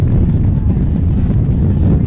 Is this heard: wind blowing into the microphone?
yes